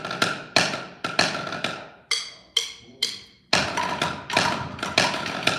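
Sharp drum strikes in a steady pattern, crisp single taps mixed with short rolled buzz strokes, played close and alone.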